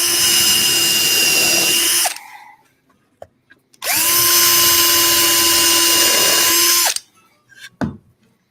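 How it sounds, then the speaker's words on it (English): A power drill pre-drills screw holes in wood, running in two loud sustained bursts of about two and three seconds each. A short clunk falls in the gap between them and small handling knocks follow. "Remember to always pre-drill."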